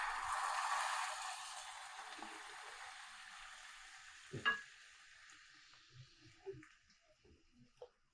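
Rajma masala frying in a pan: a loud, steady sizzle at the start fades quickly, followed by scattered scrapes and soft clinks of stirring, with no talking.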